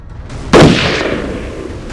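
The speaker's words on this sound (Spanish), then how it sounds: "efectuó el disparo, y la bala impactó directo en la cabeza del gran animal" A single loud, sharp rifle shot aimed at a large animal cracks out after a brief quiet moment, its echo trailing off slowly.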